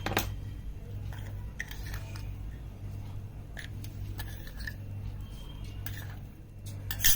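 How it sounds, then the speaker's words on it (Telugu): Hands mix raw chicken with salt, ginger, garlic, chilli and garam masala in a bowl, producing soft squelching and scattered clinks against the dish, fairly quiet and close, with no one talking. "ఇప్పుడు సాల్ట్ వేసుకుని ఎలా చేయాలో కలుపుదాం"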